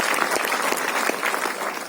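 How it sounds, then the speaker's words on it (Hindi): An audience at an MSME Day event gives loud, sustained applause welcoming a minister, a thick, even roar of many clapping hands filling the whole stretch with no pause. "एक बार फिर जोरदार तालियों के साथ स्वागत माननीय मंत्री महोदय।"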